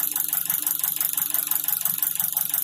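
Nissan QG18DE four-cylinder car engine idling just after switching over to gas fuel, a steady rhythmic running note with a light rattle and faint knocking, close and continuous with no talk.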